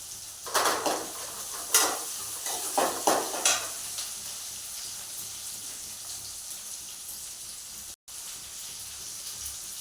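Cumin seeds and onions sauté in a pan for a meat curry, starting with a run of loud scraping stirs over a crackling sizzle, then settling into a quieter, steady frying hiss.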